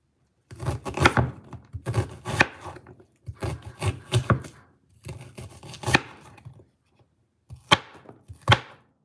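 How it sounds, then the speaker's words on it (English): Knife chopping onions on a wooden board in a home kitchen, brisk bursts of rapid close knocks in five groups separated by short pauses, loud and alone. "I hate chopping onions."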